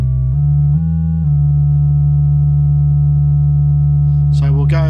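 A Behringer Proton synthesizer oscillator set to a sine wave hums a loud, steady pure tone that briefly steps up in pitch, then a short chirpy warble breaks in at the end.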